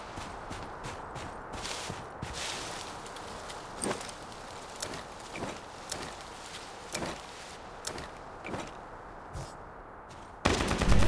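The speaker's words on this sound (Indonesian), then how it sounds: "Oke, ada suara tembakan ya guys ya." Gunfire rings out across a mountain map in the Lost Light shooter game, a run of sharp, distant-sounding shots at irregular intervals over a quiet background, ending in a louder burst.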